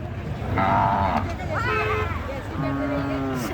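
Several bulls low in long, drawn-out calls, one after another, over a busy background of crowd murmur and distant talk at a village fair.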